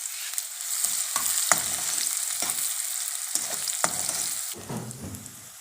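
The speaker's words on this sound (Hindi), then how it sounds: "महा इसमें प्याज ऐड कर रही है, बारीक बारीक कटिंग की थी। थोड़ा सा गोल्डन ब्राउन करेंगे" Finely chopped onions sizzle steadily in hot oil for a samosa filling, a continuous bright hiss broken by repeated scraping stirs of a spoon against the pan, close and fairly loud with no talking.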